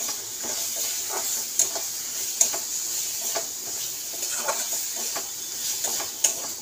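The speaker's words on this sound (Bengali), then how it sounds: "আর একটু ভালো ভাজা হবে।" Cauliflower leaves frying in oil in a pan give a steady soft sizzle, broken by a few sharp crackles and stirring clicks, with no talk.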